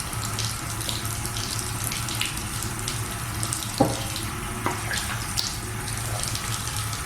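Tap water runs steadily into a sink while a face is rinsed, a continuous close hiss with a few faint splashes and knocks breaking through.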